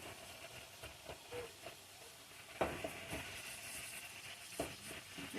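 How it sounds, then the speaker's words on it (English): Seasoned ground meat stirred and browned in a pan for homemade enchiladas, giving a steady steamy hiss and sizzle with scattered scraping stir strokes, a sharper clatter in the middle and another near the end. "I'm gonna stir it up."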